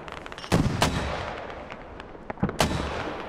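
Video game mortar fire: several heavy booming shell blasts, two or three loud sharp thumps with rumbling tails over a background of distant gunfire, no speech.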